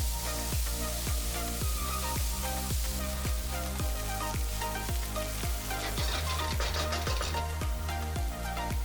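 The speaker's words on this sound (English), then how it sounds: "add 2 chopped onions and fry the onion until nice and light brown" Chopped onions fry in a pan with a steady, soft sizzle and crackle that runs throughout. A rhythmic pulsing beat plays underneath.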